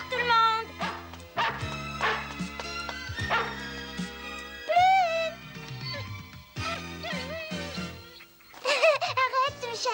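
A dog barks, yips and whimpers through the whole stretch, loud and close in an indoor family scene, with excited bursts and whiny high cries that rise again near the end.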